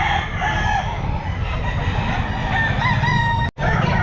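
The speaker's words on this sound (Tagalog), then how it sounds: "Ayan mga manok niya mga sir." Several roosters crow over a dense background of clucking fowl at a pet market, with calls overlapping continuously at close range.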